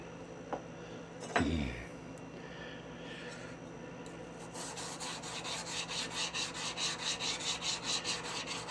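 Steel hand plane cutting iron lapped on a fairly new Atoma 140 micron diamond plate, a rhythmic rasping scrub in repeated strokes after a few quiet handling noises and a brief knock.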